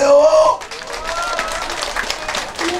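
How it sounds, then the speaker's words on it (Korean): Festival crowd clapping for a nanta and pumba street performance at the Chuncheon Dakgalbi Makguksu Festival: a short voice at the start gives way to dense, steady applause that fills the rest. "감동 받고 즐거운 만큼 박수 한번 쳐주세요"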